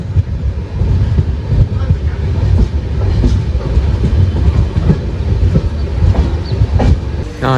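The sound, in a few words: Sabari Superfast train rolling slowly into Vadakkanchery station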